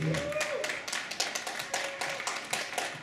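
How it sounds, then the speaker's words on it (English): An audience at the California Open Ballroom Dance Competition applauds ballroom dancers with steady, dense clapping in a large hall, while an announcer's voice carries over the applause. "a nice round of applause for John Teng and Stacey McKenzie"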